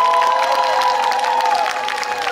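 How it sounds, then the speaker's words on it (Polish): Audience applauding and cheering after a local amateur theatre group's performance at a community cultural centre in rural Poland; dense, steady clapping with a few cheers, close and loud for the whole stretch with no talk over it. "Brawa!"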